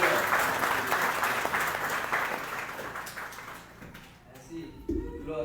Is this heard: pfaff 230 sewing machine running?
no